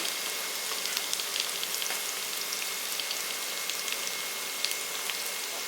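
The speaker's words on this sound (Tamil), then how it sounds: "பச்சை மிளகா, எல்லாத்தையும் சேர்த்து வதக்கிக்கலாம்." Curry leaves, beans, carrot and green chili sautéing in a pan give a steady, even crackling sizzle like light rain, moderately loud, with no voices.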